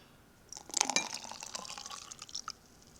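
Apple juice poured into a container while making apple wine at home: a short splashing, dripping pour that starts after a quiet moment, peaks early, then trickles off in scattered drips, close and fairly soft.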